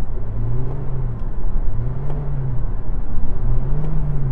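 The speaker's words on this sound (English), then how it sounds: "It's like you're revving it when it's stationary." A Toyota Prius hybrid engine revs in slow, repeated rising-and-falling swells while the car is stationary, a steady close hum underneath with no talking.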